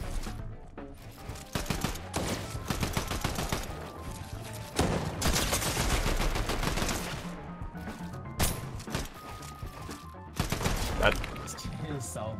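Dense bursts of gunfire during a fight in the Fortnite video game, with rapid overlapping shots and cracks running nearly throughout, loud and busy.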